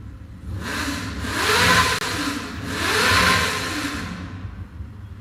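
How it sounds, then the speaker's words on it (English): A motorcycle engine revs in two swelling bursts, rising and falling in pitch before easing back toward idle. The sound is close and fairly loud, with no talking. "You over here revving this fucking motorcycle."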